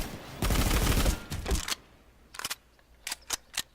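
A scout rifle in a video game fires in a fast burst of rapid, crisp shots, followed by a few spaced single sharp reports, loud and close with quiet gaps between.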